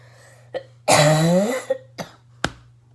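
A person coughs several times: a few short, sharp coughs around one longer, harsh hacking cough, close and clear against a faint low hum.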